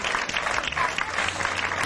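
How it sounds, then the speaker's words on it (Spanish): A church congregation applauds in praise during a Spanish-language sermon, a steady wash of clapping that stays even and fairly close for the whole short stretch, with no voices standing out. "Démosle un aplauso de aclamación al Señor."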